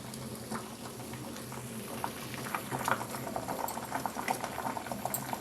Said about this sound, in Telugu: ఎంత బాగా మరిగిందో చూసారా